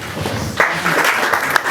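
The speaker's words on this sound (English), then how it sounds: "Give them a big round of applause" A crowd breaks into applause, a dense steady patter of many hands clapping that continues throughout.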